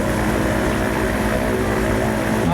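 A light aircraft's propeller engine drones steadily and loudly while the plane taxis on the ground, holding a constant tone throughout with no talk.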